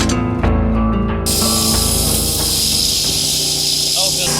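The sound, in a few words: pressurized air inflating a pipe-lining balloon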